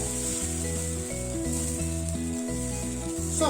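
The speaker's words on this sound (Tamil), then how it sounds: "சூடு ஏறினதுக்கு அப்புறமா நம்ம எடுத்து வச்சுருக்க அடை மாவை இட்டுடலாம்" Adai dosa batter sizzles on a hot pan, a faint steady hiss running under louder melodic background music.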